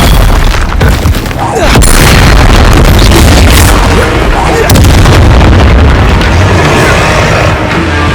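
Confringo explosion spells blasting in the Hogwarts Legacy video game during a fight with giant spiders and forest trolls, loud booming bursts over a dense, continuous battle din with voices in the mix.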